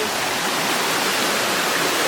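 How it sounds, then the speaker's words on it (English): Waterfall deep in a Costa Rican jungle, a dense, constant roar of falling water that is loud and near, with no voices over it. "We found the waterfall."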